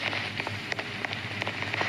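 Steady rain pours down in Roblox Brookhaven, a dense, even patter of drops hitting surfaces with a few louder splashes, close and continuous with no one talking.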